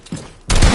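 A shotgun blast in Fortnite: a faint pop, then a sudden loud, broad crack that fills the last third of a second, close and unaccompanied by talk.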